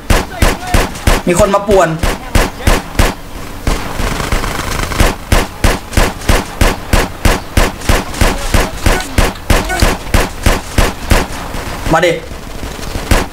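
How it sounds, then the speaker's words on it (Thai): Rapid automatic gunfire from a GTA San Andreas gang shootout, loud and close in steady bursts of evenly spaced shots, with a brief pause midway and voices talking over the action. "ไอ้เพื่อนมันยิงกับคนอื่นไปนั่นแหละ"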